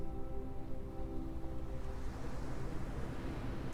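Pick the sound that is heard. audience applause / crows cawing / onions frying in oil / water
water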